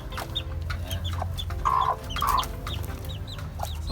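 Chickens and small chicks cluck and peep on a farm, with repeated short chirps and a few louder clucks close by, carrying on steadily without speech.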